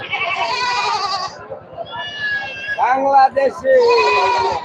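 At a big Sunday goat market, goats bleat loudly and close by, long quavering cries in a row, some overlapping, over a steady buzzing background.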